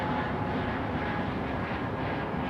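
An airliner positioning for an American route to JFK gives a steady, broad engine rumble at sunset, loud and unbroken with no voices over it.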